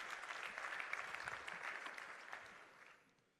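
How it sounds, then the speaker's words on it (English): Audience applause breaking out for a volunteer stepping onto the stage at an open session, a dense steady patter of many hands that fades away toward the end. "Yes, round of applause"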